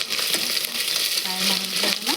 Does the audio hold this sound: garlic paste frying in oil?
yes